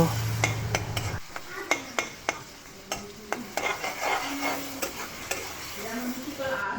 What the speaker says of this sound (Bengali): একই তেলে আমি দিয়ে দিব পেঁয়াজ কুচি দিয়ে আমি পেঁয়াজগুলো ভালোভাবে ভেজে নেব